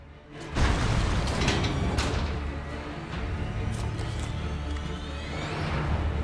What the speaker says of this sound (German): Ah, hier ist das Tor jetzt unten aufgegangen